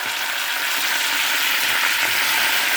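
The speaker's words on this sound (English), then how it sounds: "I'm just going to fry that up." Thawed leftovers with bits of vegetables frying in a pan, a close, steady and loud sizzle that holds evenly throughout with no talking.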